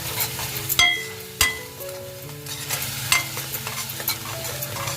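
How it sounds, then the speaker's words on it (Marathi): Ground Kashmiri chilli masala paste sautés in a pan for a surmai fish curry, with a low sizzle under repeated spoon scrapes and metallic clinks against the pan, close up. "वाटप केलेला मसाला चांगला ना मस्त असा परतून घ्यायचा आहे"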